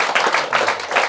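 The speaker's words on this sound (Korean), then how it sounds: "박수 한번 치셔야죠." An audience at a Buddhist dharma talk claps briefly, a few loud bursts of hands in an uneven rhythm that fill the short moment without any speech.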